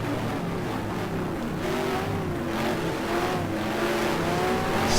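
GT race cars, including a Corvette, roar past at Dijon circuit, a loud continuous engine drone with rising and falling pitch as the cars run close together.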